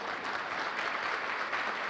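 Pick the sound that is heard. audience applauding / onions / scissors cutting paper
audience applauding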